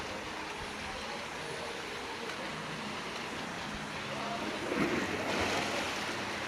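Sea waves wash onto a beach at a Batangas resort, a steady broadband surf roar with gusty wind noise that swells slightly louder toward the end.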